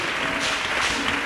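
A church congregation breaks into applause for Jesus Christ during a worship service: a thick, even roar of many hands clapping at once, loud and continuous for the whole moment with no voice on top.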